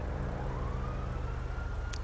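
Faint police car siren in Grand Theft Auto V online, a thin rising wail buried under a heavy steady engine rumble, brief and distant-sounding.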